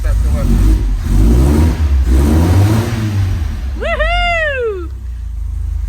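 A classic car engine runs without its airbox, giving a loud close rumble that swells under light throttle, then a sharp rev spikes up and falls away near the end while someone speaks.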